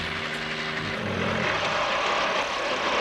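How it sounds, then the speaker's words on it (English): A big helicopter's engine and rotor drone steadily and loudly throughout, with a continuous whining hum and broad roar and no voices. "Oh, a big old helicopter."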